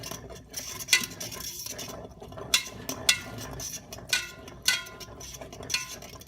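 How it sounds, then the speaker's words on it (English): A spoon clinks and scrapes irregularly against a dish while egg is stirred into mac and cheese, close by with short sharp knocks. "the egg's in there, and I'm just mixing it up"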